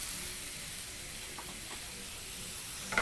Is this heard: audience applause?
no